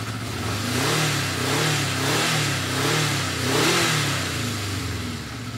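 A 1980 Honda CB650 Custom motorcycle engine runs close by, its throttle blipped in repeated rising and falling revs over a rough, uneven idle.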